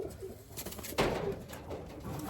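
Soft pigeon cooing with low murmuring calls over a steady background hum, plus a brief louder rustle partway through.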